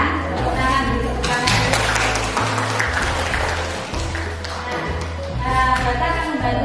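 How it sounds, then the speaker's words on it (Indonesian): A class of students claps together in a school classroom, a sustained burst of applause lasting several seconds, loud and close, with a low steady hum underneath. "Tepuk tangan dulu."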